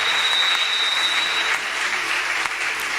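A church congregation applauds and cheers for Jesus, a dense, steady wash of clapping that stays loud and close throughout with a few voices rising within it.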